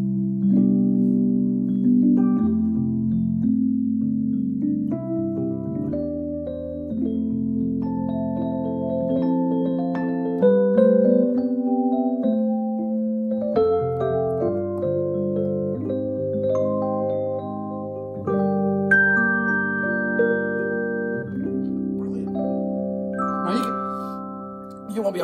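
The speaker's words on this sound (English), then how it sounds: "it changes the colour to an electric piano sound" Electric piano voice from a Roland KF10 digital piano with a wavering phaser effect, played as a slow melodic passage of sustained chords and single notes, steady and clear with no talking.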